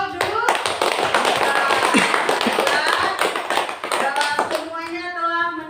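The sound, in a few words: clapping for the group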